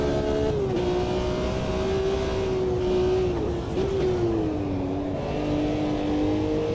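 A race car engine in the sim racing game Automobilista 2 drones loudly and steadily, its pitch sagging and rising gently as the car laps behind slower stock cars, with no other sound over it.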